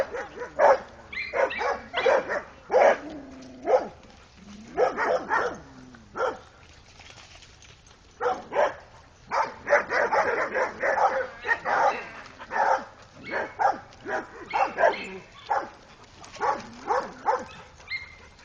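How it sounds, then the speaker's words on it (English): Several dogs bark in repeated bursts at a neighbor dog, with yips and whimpers mixed in, loud and close in a fairly continuous volley. "Barking at the neighbor dog."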